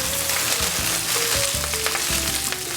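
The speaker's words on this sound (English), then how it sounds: "the key to this is good sauteed spinach" Spinach sautés in hot oil in a pan, a loud continuous sizzle and crackle close up with a steady hum underneath and a few sharper pops.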